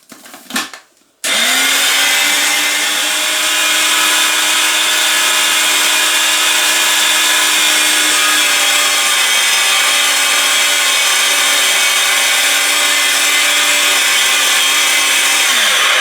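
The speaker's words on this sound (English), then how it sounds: "Just blend throughout, very smooth." A blender whirring through soaked oatmeal, starting after a short clatter and then running as a loud, steady, high-pitched whine for about fifteen seconds without talk.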